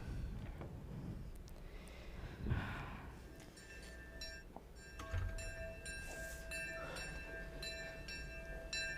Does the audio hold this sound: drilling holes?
no